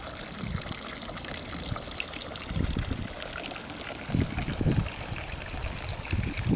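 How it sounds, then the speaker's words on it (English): Spring water runs from a drinking fountain at a pig pen, trickling and splashing in uneven bursts that swell and fade, close by with no talking. "They have their own drinking fountain with water fresh from our spring"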